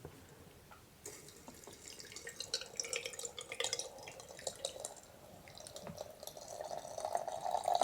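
Hot water is poured over dried herbs and plants for an infusion, a soft, quiet trickle and splash that grows slightly fuller toward the end.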